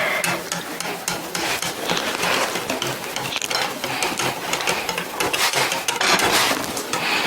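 A mixture stirred in a pan: steady, loud, rhythmic scraping and churning that runs continuously without pause.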